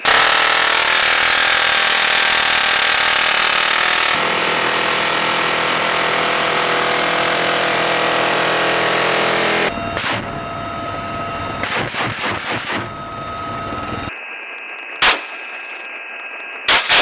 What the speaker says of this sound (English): Right gun open fire.